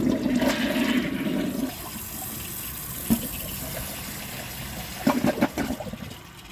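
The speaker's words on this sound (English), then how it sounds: "once the tank is full, I'm going to try another flush holding the handle" A Jacuzzi Perfecta toilet flushes with its handle held down: a loud rushing gush of water that drops into a quieter refill trickle, with brief gurgling bursts later.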